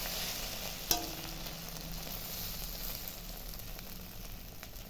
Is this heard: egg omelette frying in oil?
yes